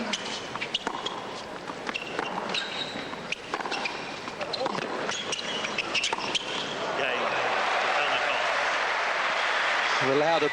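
Tennis crowd at the 2001 US Open semifinal, Hewitt versus Kafelnikov, bursting into sustained applause after a break of serve; ball bounces and court sounds precede the clapping, which builds and holds loud toward the end, with commentary over it.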